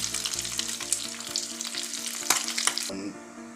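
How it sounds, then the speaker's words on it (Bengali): Tilapia fish frying in hot oil gives a steady, close crackling sizzle with bursts of spatter, thinning out near the end. "আমার ফ্রাই মাছ ফ্রাই হয়ে গেছে, এখন আমি সবগুলো নামিয়ে ফেলব।"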